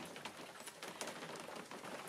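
Light rain falls outside a corded wooden cabin, a soft, faint, even patter with scattered drip ticks, steady and quiet with no voices.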